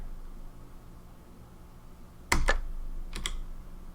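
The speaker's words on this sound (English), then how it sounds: "I'm just going forward on the keyboard" Computer keyboard keys struck in two short bursts of a few quick clicks each, fairly close and crisp, with quiet room noise in between and no talking.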